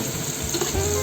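Coriander leaves and spices sauté in a hot pan for a shrimp and mung bean rice dish, a steady close sizzle with faint stirring and no talk.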